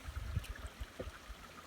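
Water trickles and gurgles softly over stones, a quiet, continuous babbling of a small stream.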